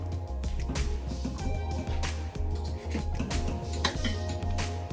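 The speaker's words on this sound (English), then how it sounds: "Now I'm just gonna add my pasta that I boiled earlier into that now." Boiled macaroni stirred into melted cheese sauce in a metal pot: steady scraping and clinking of a spoon against the pot with soft squelching, continuous and close throughout.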